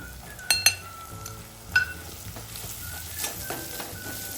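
A paste of ginger, garlic and coriander fries with onion-garlic masala, giving a soft steady sizzle with a few sharp clinks and scrapes of a spoon stirring in the pan.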